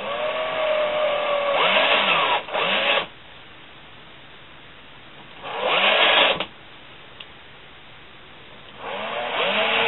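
A drill bit bores into thin popsicle-stick wood in three separate bursts of loud whirring, each a second or two long, with quieter pauses in between.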